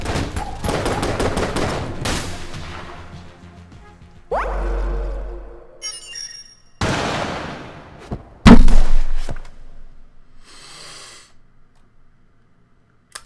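Gunshots in the video game Enter the Gungeon: a dense rattling volley at first, then several separate loud blasts and impacts with ringing decays, fading into quiet near the end.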